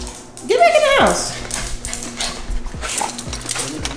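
A small dog gives a rising whimper or whine close by at a house doorway, followed by quieter yelps, with a person talking over the rest.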